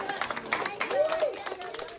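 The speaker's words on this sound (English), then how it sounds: "Clapping, a different sound than a typical study session." Clapping breaks out at a school end-of-year showcase. The claps are uneven and close by, mixed with voices talking and children's chatter.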